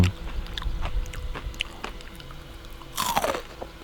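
Close, crisp chewing of crunchy fried fish, caught on a fishing trip in a big mountain valley, with repeated crackling bites and mastication throughout, then a louder burst of crunching near the end with no talking.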